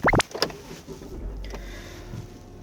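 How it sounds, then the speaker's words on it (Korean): A used BMW SUV engine starting, with a brief whir and chirp of the starter at the start, followed by a quiet, low, steady idle that settles in and stays faint and smooth. "네, 이 큰 차에서 이렇게 조용하게 시동 걸리고 있고요"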